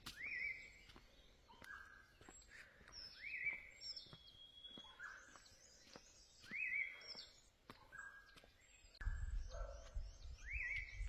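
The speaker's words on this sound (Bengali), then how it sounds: "সকাল সকাল কত পাখির ডাক শোনা যাচ্ছে" Morning birdsong in the hill village of Lava: repeated clear whistles and short chirps from several birds, fairly faint and somewhat distant, with a quiet low rumble joining near the end.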